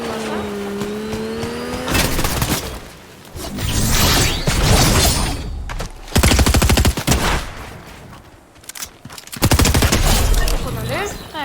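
Gunfire in a Fortnite Battle Royale fight, with loud bursts of rapid automatic shots and single cracks in clusters, close and dominant, while a player talks over parts of it.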